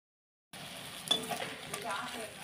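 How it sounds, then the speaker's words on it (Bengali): Elephant foot yam stalks cook in a covered pan and are stirred, a steady sizzle with soft scraping that starts abruptly after half a second of silence and carries on evenly to the end. "মাঝে মাঝে খুলে 1 মিনিট 2 মিনিট ছাড়া একটু নাড়বো"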